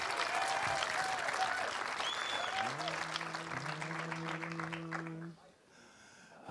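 Loud, dense audience applause fills the air at an outdoor village event in Hantum, with a few cheers and whistles, then fades out near the end as music tones begin.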